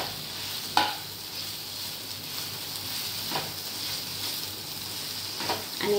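Cluster beans being stirred with chili thecha, garlic and cumin in a hot frying pan, a steady sizzle with a few scraping stirs of the spoon, close by and with no voices.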